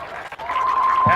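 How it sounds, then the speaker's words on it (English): Crowd applause at a Sarasota Paradise versus St Pete FC soccer match, a brief burst of clapping and cheering from the stands with a steady tone underneath. "And a round of applause."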